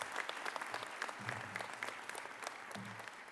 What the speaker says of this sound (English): Let's have a round of applause for all these individuals.